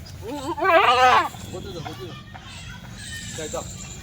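A Kathiawari goat lets out one loud, wavering bleat close by, followed by quieter voices and outdoor background noise.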